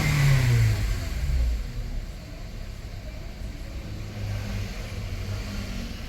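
A Honda CR-V with a K24 engine revs during a cold-start warm-up, a loud close mid-pitched engine that rises sharply at first, eases back to a steady idle-like drone, then swells again slightly, with no voices.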